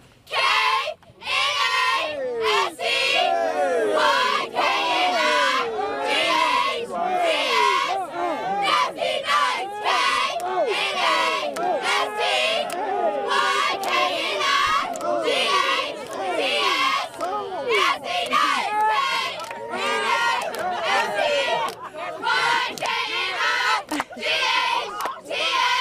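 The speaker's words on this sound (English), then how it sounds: "we're going to have the ladies hop up and do a quick cheer really quick" Cheerleaders at a high school football game shout a quick cheer in unison, loud rhythmic chanted bursts with short pauses between lines, over faint crowd noise.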